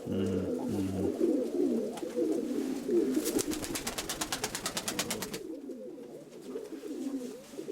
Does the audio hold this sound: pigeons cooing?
yes